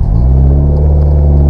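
A manual car's engine picking up revs during a hill start as the clutch is eased out, a loud close rumble that swells at first and then holds steady.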